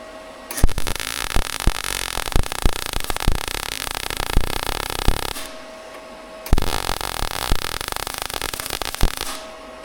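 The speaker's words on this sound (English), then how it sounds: "let's tack it in" Tack welding on a car body panel, a harsh crackling electric buzz in two bursts of several seconds each, separated by a short pause and loud and close.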